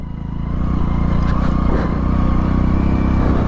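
A Hero Splendor 100cc motorcycle engine drones steadily while riding a mountain route with waterfalls and water crossings, a continuous close, loud low hum with wind noise and no talking.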